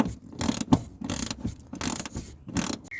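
Headlight bolts on a Ford Focus Mk1 are tightened with a ratchet, giving four or five quick bursts of rapid close clicking separated by brief pauses, with no voices.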